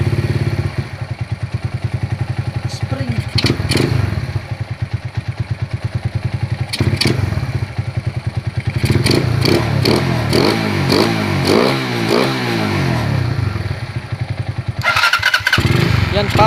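A Euro Viperman 150 motorcycle fitted with a 30mm carburetor runs close by at a steady, loud idle, its rapid firing pulses occasionally swelling with brief throttle blips.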